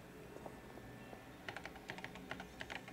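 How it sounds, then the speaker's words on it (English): Key taps on the keyboard of a communicator in Paper Mario: The Thousand-Year Door, a quiet run of light clicks that starts sparse and then becomes a quicker, irregular patter. "Use the keyboard to send whichever message you want."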